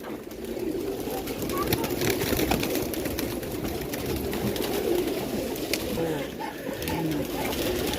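Pigeons coo softly amid a dense flock's fluttering and shuffling, with a person talking faintly in the background.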